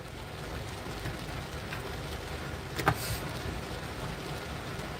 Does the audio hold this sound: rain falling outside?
yes